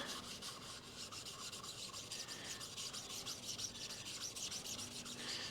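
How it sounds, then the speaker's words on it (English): Scratch pad scrubbing softened paint off an etched tile, a continuous quiet rhythmic rasping of quick back-and-forth strokes, close but faint, with no talking. "it comes off pretty easily with the scratch pad"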